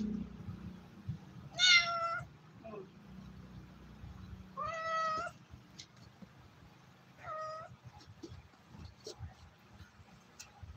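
A cat meows three times with pauses in between, fairly close, over a low background hum and soft rustling.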